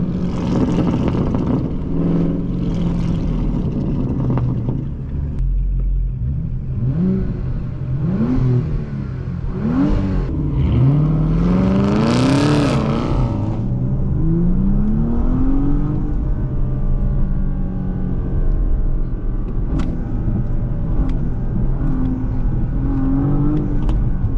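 A loud widebody Dodge Charger Scat Pack engine revs and roars nearby, its pitch sweeping up and down through several throttle bursts before settling into a steady idle.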